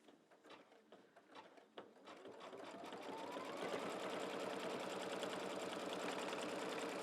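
An embroidery machine stitches a mug rug in the hoop, starting with a few scattered mechanical clicks and thumps before settling into a steady, loud, rapid needle whir that runs continuously to the end.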